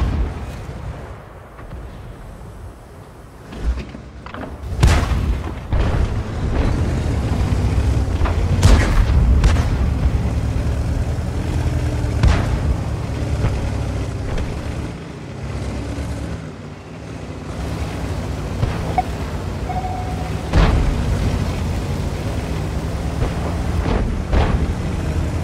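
Tank gun fire in a video game: several heavy booms at irregular intervals over a constant rumbling engine drone, with deep, resonant blasts standing out loud and close.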